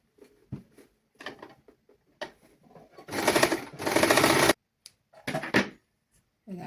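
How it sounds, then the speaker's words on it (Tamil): A sewing machine stitching a child's garment in a basic tailoring lesson, running in several short close bursts and one longer steady run of rapid mechanical needle chatter, with quiet pauses between. "அதுக்கு பிறகு நாங்கள் இப்படி தைக்கணும் பாருங்க பார்க்கலாம்."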